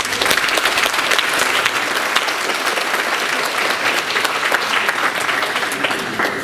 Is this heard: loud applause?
yes